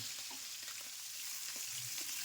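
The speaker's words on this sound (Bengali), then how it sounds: "এখন ট্যাংরা মাছের দু পিটি লালচে রং এসে গেছে এই পর্যায়ে তেল থেকে মাছ তুলে রাখব একইভাবে বাকি মাছগুলো ভেজে নেব" Tangra fish frying in hot oil, a steady, close sizzle with faint crackles and occasional soft stirring clicks, continuous and unbroken by speech.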